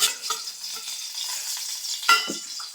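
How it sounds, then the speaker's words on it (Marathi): Grated coconut roasting in a pan, a soft continuous dry sizzle with a few scraping stirs, one a bit louder near the end, heard close and alone. "खोबरं भाजून घेऊया थोडं।"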